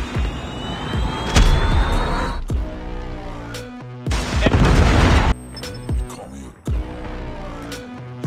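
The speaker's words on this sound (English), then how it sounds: "Predator missile inbound." Missile strike in the Call of Duty Mobile video game, with loud booming blasts and bursts of gunfire over a steady aircraft-like drone, several heavy impacts spread across the stretch, near and forceful.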